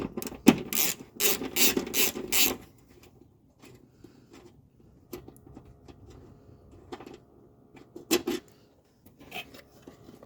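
Several quick, sharp ratchet clicks come near the start as a 10mm bolt is loosened on a Land Rover Discovery Sport, followed by quieter handling noises and a later short burst of clicks.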